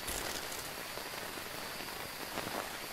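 Steady rain falling in the Phasmophobia video game, a soft continuous hiss and patter with faint crackles, heard alone at low volume.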